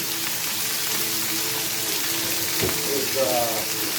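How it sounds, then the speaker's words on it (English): Meat searing in a pot for pot roast, a steady dense sizzle and crackle that stays constant throughout with a faint voice underneath. "the first thing you've got to do is you've got to sear the meat"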